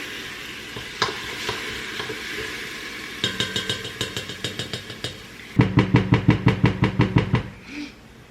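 Garlic heaped into a hot pan and frying, a soft sizzle under rapid rhythmic tapping and scraping of a utensil that grows louder and quicker toward the end, close with no voices.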